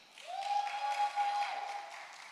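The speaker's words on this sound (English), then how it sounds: "So let's try that make some noise, applause thing now." Audience at a Divali King and Queen pageant pre-show applauding and cheering on cue, a steady wash of clapping with woos and a sustained high whistle or shout running through it, fairly loud and continuous for a couple of seconds.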